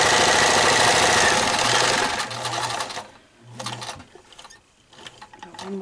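A sewing machine stitches down the side of a fabric face mask made without elastic, its loud, close mechanical whir running steadily at first, then breaking into shorter bursts with pauses between.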